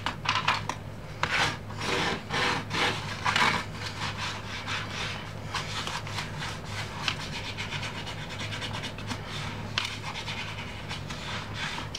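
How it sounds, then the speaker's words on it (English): A fold-over lock closure is burnished down by hand in a paper craft project, with repeated close, fairly soft rubbing and scraping strokes in an uneven rhythm and no talk. "So then we'll burnish this down."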